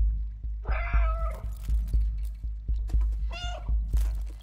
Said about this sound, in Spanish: creo que es como cuando maullas, te da como pistas, ¿no?